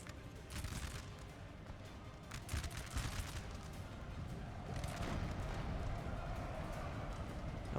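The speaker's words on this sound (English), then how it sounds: "Beautiful volley." A musket volley in a Napoleonic battle in Napoleon Total War: scattered crackling gunfire and popping shots over a low battlefield rumble, fairly faint and distant.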